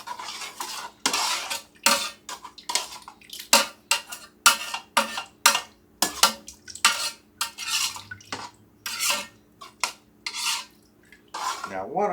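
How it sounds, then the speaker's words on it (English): Freeze-dried Mexican rice with a packet of Sazon being stirred in a Ninja Foodi pot: a steady run of scraping, clinking utensil strokes against the pot, close and fairly loud, with no talking. "Let's give that a nice stir."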